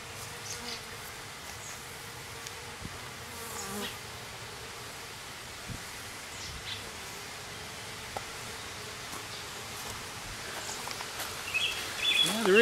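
Honey bees buzz steadily around hive frames during a foundationless-frame inspection, a faint continuous hum with soft rustling that swells slightly louder near the end.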